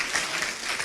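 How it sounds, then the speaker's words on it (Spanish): A church congregation applauds together, producing a dense, even wash of clapping heard up close for a brief moment. "Le damos un nuevo aplauso a Jesús, al Rey de Reyes y Señor de señores"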